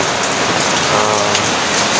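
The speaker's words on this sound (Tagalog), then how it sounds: "Malakas ang ulan guys." Heavy rain falls during a typhoon in the early morning, a loud, dense, continuous hiss of drops on surfaces close by, with no voices.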